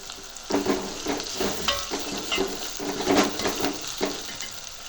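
Washed chicken fries with curry leaves in a pan, a loud sizzle swelling in repeated waves as it is stirred, with occasional scrapes of a utensil against the pan.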